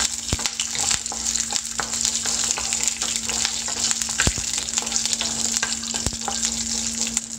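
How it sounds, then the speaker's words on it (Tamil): Garlic and onion sauté in a pan for radish chutney, giving a steady close sizzle broken by sharp clicks of a spoon against the pan, with a constant low hum beneath. "இப்போ வந்து பூண்டு வெங்காயம் ரெண்டையும் ஆட் பண்ணிக்கலாம். இப்போ இதையும் நல்லா வந்து வதக்கிக்கலாம்."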